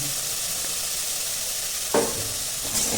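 Chicken pieces with black pepper are stirred in a hot pan, a steady sizzle with a scrape of the spoon near the end, close and even throughout.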